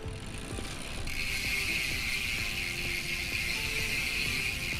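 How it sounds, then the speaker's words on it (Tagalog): Fast, steady ratcheting clicks from a SRAM X9 bicycle freewheel hub with four pawls and sealed bearings, close and continuous for several seconds, over a light rushing background and no talking. "Ito po yung tunog ng SRAM X9 po"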